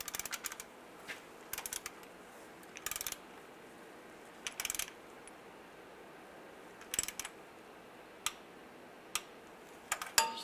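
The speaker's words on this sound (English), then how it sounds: "Now we're going to torque the bottom two bolts to 106 inch-pounds." A torque wrench clicking as it tightens the bottom bolts of a rear main seal cover on a 2007–2013 Chevy Silverado in a quiet workshop, sharp metallic ticks in short scattered clusters with silence between.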